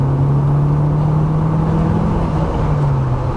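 Rover 220 Turbo Coupe from the 1990s, 200 bhp turbo engine droning steadily from inside the cabin with a faint whine over a low rumble, no voices.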